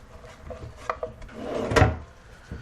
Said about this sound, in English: Okay, soft close drawer box,